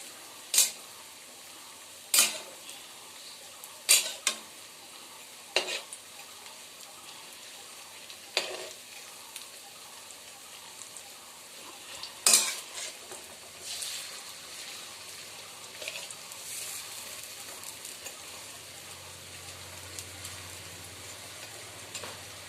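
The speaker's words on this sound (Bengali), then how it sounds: "এখানে আবার কড়াইয়ে দিয়ে দিয়েছি ভাজা হচ্ছে" Spiny gourd (kakrol) fritters fry in oil in a wok with a faint, quiet sizzle. Sharp spatters and pops come sporadically early on, then thin out into a low, steady bubbling over about twenty seconds.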